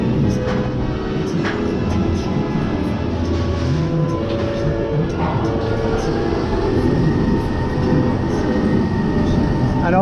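The Matterhorn Blitz wild mouse roller coaster at Europa Park rumbles steadily as a train runs along the track, a continuous loud rolling rail noise with faint squeals.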